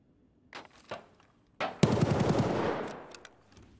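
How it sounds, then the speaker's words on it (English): Gunfire in Escape From Tarkov, with a few scattered shots followed by a sustained machine-gun burst that rattles on for over a second before fading, heard at a moderate distance. "I just hear a whole lot of shooting happening."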